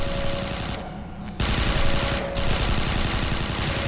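Automatic weapons fire in the pre-alpha first-person shooter Interstellar Marines during a competitive match, with rapid, dense bursts that run almost continuously and loudly. A short gap comes early, then more firing follows.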